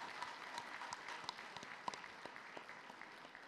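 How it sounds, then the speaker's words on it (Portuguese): Conference audience applauding the organizers at an economics conference, a continuous, distant-sounding patter of many hands, fairly faint, with a few sharper individual claps standing out. "Salva de palmas para a organização."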